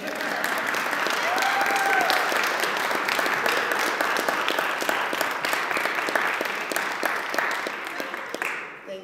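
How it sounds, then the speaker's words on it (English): A crowd applauds steadily for several seconds, dense clapping filling the room before tapering off at the end. "can we just give you a round of applause?"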